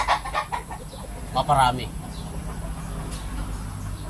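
Gilmore bloodline gamefowl hens cluck and squawk in short bursts close by, with a louder flurry midway, while someone talks over the birds.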